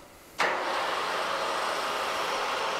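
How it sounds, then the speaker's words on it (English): A Ramco TK330 13 x 30 inch geared head engine lathe starts with a sudden switch-on, then settles into a steady whirring mechanical hum that continues alone. "We'll go ahead and start the machine for you, let you hear it"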